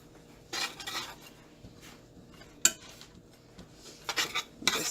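Seasoned beef mixture with garlic powder, onion powder, salt and pepper being stirred in a skillet, with several scraping clinks of a utensil against the pan, some sharper knocks, and no talking.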